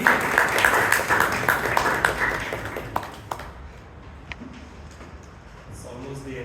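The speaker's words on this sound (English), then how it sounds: "Round of applause for Goutam, please." Audience at a Bangalore Toastmasters club meeting claps for the club timer, a moderate burst of applause that thins out after about three seconds into scattered claps and quiet room noise, with a voice faintly entering near the end.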